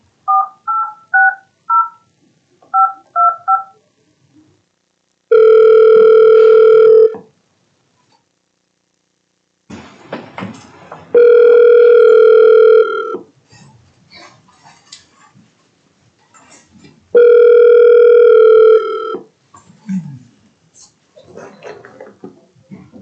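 A caller joins a board of education meeting by phone: a quick run of touch-tone keypad beeps, then three long, loud ringback tones separated by pauses, with faint background noise between them.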